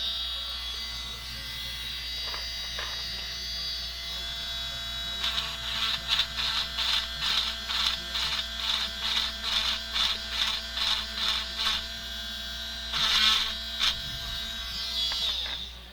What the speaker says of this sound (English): but we're going to chamfer it some more